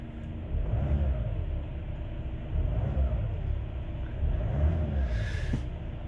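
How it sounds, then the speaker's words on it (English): A car engine runs with a steady low rumble, swelling a couple of times as if revved, after an immobiliser has been disarmed; the sound is close and continuous with no voices. "we should be able to start the car normally"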